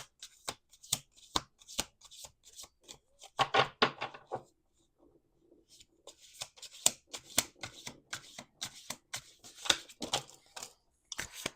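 Tarot cards are shuffled in quick riffling bursts and snaps, with a short pause midway before the shuffling resumes, close up and fairly quiet.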